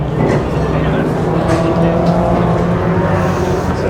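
A Porsche 993 GT2 race car at the Le Mans Classic roars past close by, its engine note loud and steady throughout, with a voice speaking over it.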